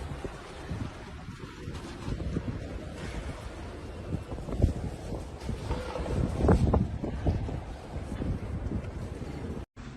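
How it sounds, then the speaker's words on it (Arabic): Strong wind from a dust storm in Arar, Saudi Arabia, roars as a steady, gusting low rumble that swells and buffets the microphone for the whole stretch, with no clear voice. "رياح قوية."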